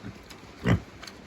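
A single short pig grunt, close and fairly loud, rising out of quiet background noise with a faint squeak afterward.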